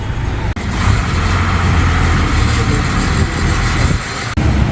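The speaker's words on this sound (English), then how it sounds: "So as that 82 bus went flying past me" A route 82 bus roars past at speed on a road, a loud continuous engine and tyre rush filling the whole stretch, close by and with no talking.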